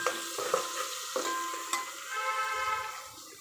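Chicken curry with masala being stirred in a hot pan, a close sizzle with scraping stir strokes and a few sharp clinks of the spoon against the pan.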